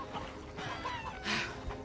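Faint, low-level clucking of chickens in the video game Ghost Recon Wildlands, a few short clucks over quiet game ambience with a brief noisy burst.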